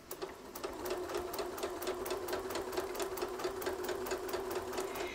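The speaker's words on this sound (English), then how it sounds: "I'm going to try and stitch right next to it" A long-arm quilting machine stitches a fabric rug with a rapid, steady run of needle strikes and a constant motor whine, close and even for several seconds.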